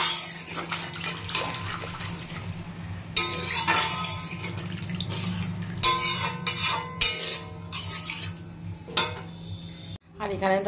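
Water is poured into a pan of fried potato and pointed gourd spice paste, with splashing and bubbling under clattering metal against the pan, ending in a brief sharp knock.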